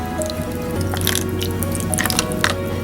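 Water poured onto expanding instant snow powder gives close, wet dripping and soft squishing as the powder soaks it up, in a steady run of small liquid sounds with no speech.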